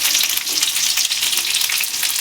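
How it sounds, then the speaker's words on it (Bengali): Cauliflower pieces fry in a hot pan with a steady, dense sizzle that stays loud and even throughout, with no talking over it. "এই যে আমার ফুলকপিটা ভাজা হচ্ছে"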